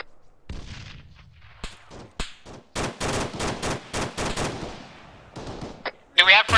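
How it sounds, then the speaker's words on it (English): AK rifle fire in a military video game: rapid bursts of loud, close shots run in a dense sequence through the middle, followed by a few scattered cracks and a sharp burst at the end. "Do we have friendlies firing AK?"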